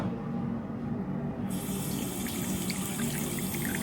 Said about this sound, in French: L'eau, je suis sûr que tu la sors, elle est rouillée.